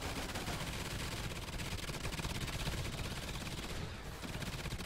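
Sentry gun firing in Call of Duty Ghosts Extinction mode, a dense continuous rattle of rapid automatic shots held at steady loudness with a brief dip near the end.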